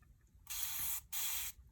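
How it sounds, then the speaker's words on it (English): Two quick hissing sprays of water from a pump spray bottle onto chalk paste on canvas, each about half a second, close up in a quiet room. "I'm gonna use my little spray water here"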